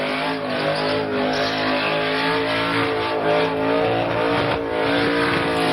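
A car with a 351 Cleveland engine doing spins at Summernats, its engine held at a loud, continuous high-rev roar with tyre noise, near and unbroken throughout.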